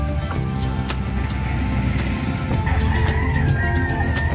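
Chickens and fighting roosters at a livestock market in San Carlos City, Pangasinan, clucking and crowing amid a dense, noisy market din with engine rumble underneath.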